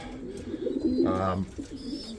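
Soft, low racing pigeon cooing swells in the middle amid light background chatter and rustle, with a brief bird call near the start.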